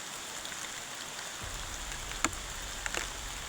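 Rain falls in a dense, constant hiss close around, with a low rumble joining partway through and a couple of brief sharp splashes near the end.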